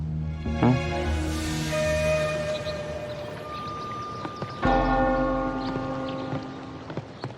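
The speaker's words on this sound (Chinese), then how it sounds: "这是一座古寺的钟声，离这儿大概2、3个山头的距离" A distant ancient temple bell tolls far off across the hills. There are two deep, resonant strikes several seconds apart, each ringing out with a long, slowly fading hum.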